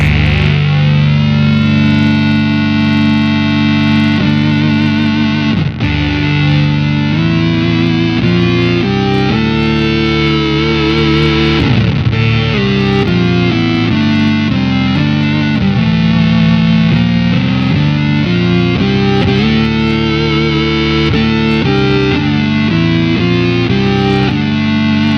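Electric guitar run through an EarthQuaker Devices Data Corrupter pedal, with two harmonic oscillator voices and fuzz faded in, giving a loud, thick, distorted synth-like drone that sustains steadily with shifting pitches throughout.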